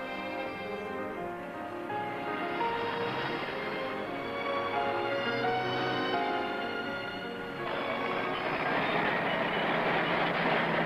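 A city circle train rolls steadily along the rails around a city loop, a continuous rumbling drone with a brighter rush of wheel noise building near the end.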